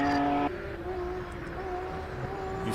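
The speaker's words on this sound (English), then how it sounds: "You feel the anti-lag in that car, and you feel it through your bones." A hillclimb race car's engine crackles and pops loudly with anti-lag, a steady tonal drone broken by sharp bursts, heard up close at a hillclimb event.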